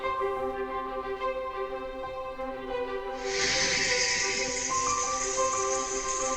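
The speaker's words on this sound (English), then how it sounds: "cancel and hit the steam release button" Steam bursts out of a pressure cooker's release valve partway through cooking cheddar broccoli risotto with chicken, a sudden loud, steady hiss that starts midway over a droning hum and continues to the end.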